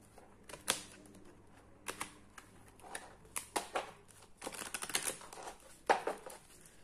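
Tarot cards being shuffled by hand during a card reading, a series of quiet crisp riffling and flicking bursts at irregular intervals, close and soft, with no talking.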